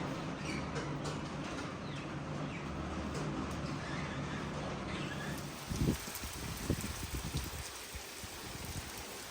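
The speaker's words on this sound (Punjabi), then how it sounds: "ਬਾਰਿਸ਼ ਚੰਗੀ ਹੋ ਰਹੀ ਹੈ" Heavy rain pours steadily onto a rooftop and courtyard, a dense continuous hiss with louder splashes and drips striking nearby surfaces in the latter half; no one speaks.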